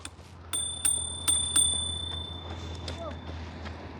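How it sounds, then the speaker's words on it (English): Integrated bell on a Vmax VX4 GT electric scooter rings in several bright, sharp dings, about four quick strikes close by, each decaying briefly, followed by quieter background noise. "Even got a cute little bell. I love integrated bells."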